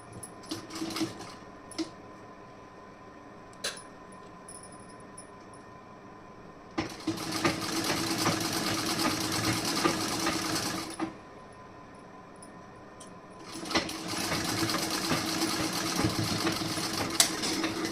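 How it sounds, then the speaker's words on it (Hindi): A sewing machine runs in two sustained bursts while stitching fabric for a garment fitting, with quiet pauses and a few small clicks in between; a steady, close mechanical whir with no talking. "यहाँ पे कच्ची सिलाई लगाऊंगी।"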